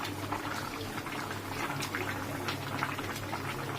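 Potatoes and pumpkin boiling in a pot for a vegetable curry, giving a steady bubbling, watery wash with soft irregular pops throughout, close and moderately quiet, with no talking.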